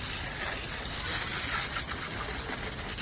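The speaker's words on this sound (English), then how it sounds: "Hose this down." A garden hose runs water steadily outdoors on a rainy day, hosing down an area after a backed-up toilet, a continuous broadband gush and spray at close range for about three seconds with no talk.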